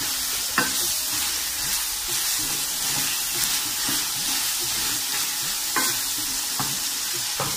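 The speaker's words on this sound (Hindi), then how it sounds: "इसको अपने हाई फ्लेम के ऊपर इसको अच्छी तरह अपने इतना भूनना है।" Chicken karahi fries hard on a high flame, giving a steady, dense sizzle throughout. A spatula scrapes and knocks at the pan now and then, up close, and nobody speaks.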